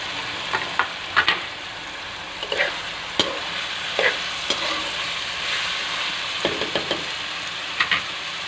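Shredded cabbage sizzles steadily in a hot pan for chicken macaroni, with scattered spoon knocks and stirring scrapes over the constant frying hiss; no voices.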